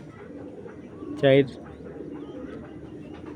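A big, deep red Giribaz pigeon lets out one short, resonant coo close by, with someone talking around it.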